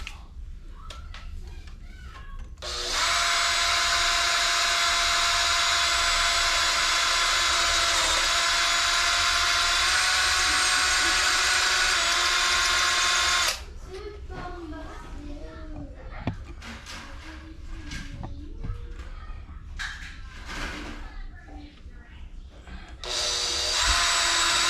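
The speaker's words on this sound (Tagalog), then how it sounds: "Bubutasin lang natin yung likod para siya pumasok. Yan, kailangan natin ng drill bit na pang metal" A power drill with an 8mm metal bit bores into a folding bike's rear brake mount for a Tiagra caliper, a loud steady high whine for about ten seconds, then people talking amid handling noises before the drill starts again.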